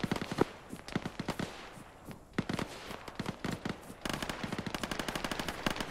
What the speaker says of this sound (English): Using a captured enemy machine gun, I'm seeing green tracers coming from the northwest.